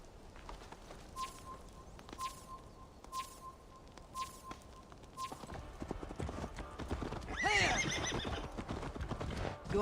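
A horse in the video game Assassin's Creed Valhalla, with steady hoofbeats and soft periodic chimes, then a loud whinny near the end over busier background noise.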